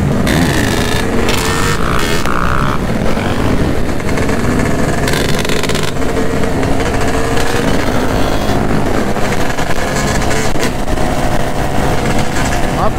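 Motorcycle engines roar continuously during a group wheelie ride, loud and close, with the throttle sticking and the revs surging on their own, while people shout over the engine noise.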